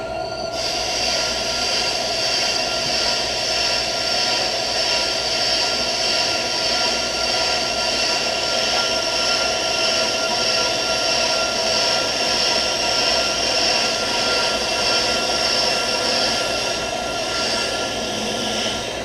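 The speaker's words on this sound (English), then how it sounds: "It's going to cut the whole surface that the brake pad is going to ride on." A brake lathe cutting across the pad surface of a brake rotor, producing a loud, steady metallic whine and grinding drone that holds evenly for the whole stretch without pauses or voices.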